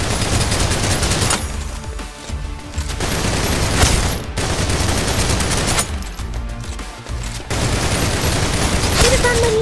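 Rapid automatic gunfire in the shooter game Snowbreak: Containment Zone, loud bursts of fusillade broken by short pauses, with sporadic speech heard among the shots.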